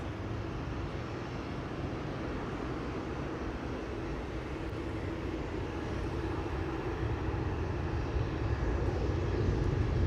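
Emirates airliner approaching Amsterdam Schiphol, a rumbling low jet roar that builds gradually louder as it nears, continuous and broadband with no voices.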